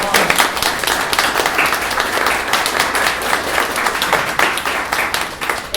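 An audience at a professional event on welcoming gender-diverse talent in the workplace gives a round of applause: dense, steady clapping from a sizable crowd, loud and sustained for the whole stretch with no talk over it.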